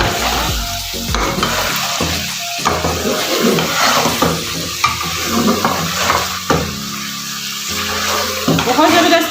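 Afghani chicken karahi, a restaurant-style dish, is stirred in a pan after garam masala and black pepper go in. A spoon scrapes and clatters steadily against the pan over a sizzling, bubbling background.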